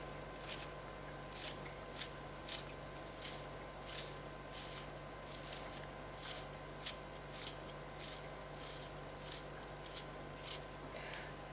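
Knife slicing onions on a cutting board while preparing a runza cabbage and meat pie, giving quiet, evenly spaced crisp cuts repeating about every half second over a low steady background hum.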